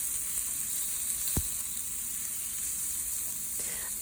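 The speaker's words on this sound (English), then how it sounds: "So let's just add those onions right into the pot, nice and sizzling and hot." Onions sizzling in hot olive oil in a pot, a quiet, steady, high hiss that runs evenly throughout, with a faint knock near the middle.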